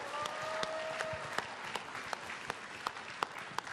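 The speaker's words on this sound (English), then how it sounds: "a round of applause for Christy Golden." Light applause from a small crowd at a BlizzCon 2011 panel, a steady patter of claps with a few sharper individual claps standing out.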